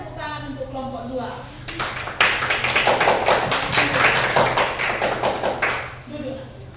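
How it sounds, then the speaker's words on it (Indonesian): Classroom applause for a student group, a burst of many hands clapping that swells and holds for several seconds, with talking voices before and after. "berikan tepuk tangan untuk kelompok 2"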